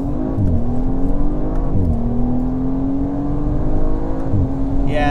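An Audi engine pulls in third gear during a press-event drive, a steady loud drone whose pitch climbs smoothly with brief dips at gear or throttle changes, heard from inside the car.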